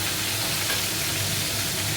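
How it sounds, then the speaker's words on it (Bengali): Pieces of katla fish fry in oil in a pan, giving a steady, close crackling sizzle throughout with no voices. "একে একে সব ভেজে নিচ্ছি।"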